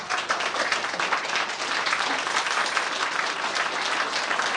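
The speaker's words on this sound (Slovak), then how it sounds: "Poďakujme sa našim tanečníkom bedlivým potleskom." Audience at a school graduation ball applauding the dancers, a steady, dense wash of clapping from a large crowd held for several seconds without a break.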